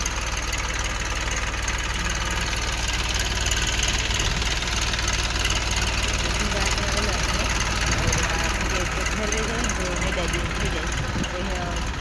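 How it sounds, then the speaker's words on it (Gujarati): A farm tractor engine idles steadily in a field with a constant low rumble and knocking throb, loud and close, running throughout. "પછી ટ્રેક્ટર ચાલુ કરી દીધું"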